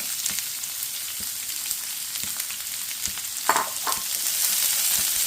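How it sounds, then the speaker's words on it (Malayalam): Chopped onion tipped into hot oil with fennel seeds that are nearly fried, for an egg roast, sets off a steady, close sizzling hiss with a brief louder crackle partway through as the pan is stirred. "അതിലേക്ക് നമ്മൾ അരിഞ്ഞു വെച്ചേക്കുന്ന സവോള നമ്മളിതിലേക്ക് ഇടുന്നു."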